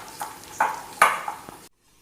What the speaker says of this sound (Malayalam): കുറേശ്ശെ ഒഴിച്ചു കൊടുത്താൽ മതി, കട്ടയില്ലാതെ ഇളക്കിയെടുക്കാം.